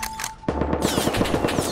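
Rapid bursts of automatic gunfire from a firefight in the survival video game Rust, loud and close, with dense repeated shots crackling through most of the moment after a brief lead-in tone.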